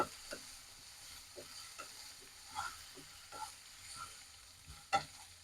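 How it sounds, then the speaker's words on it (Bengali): A spoon stirs garlic and ginger paste into singara filling in a pan, making soft, intermittent scrapes and taps over a faint, quiet sizzle. Nobody speaks. "দিয়ে দিচ্ছি একটু রসুন এটা ভালো করে মিশিয়ে নিচ্ছি"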